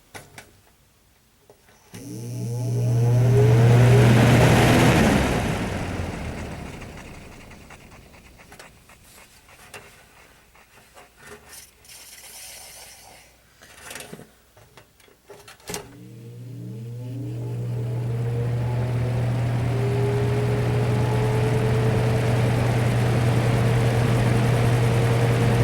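A vintage Galaxy box fan motor hums steadily with a low, even drone, starting up loudly, fading into clatter midway, then settling into a sustained rising whir at close range.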